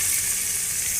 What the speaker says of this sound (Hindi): इस घी के उत्तों पा देवें प्याज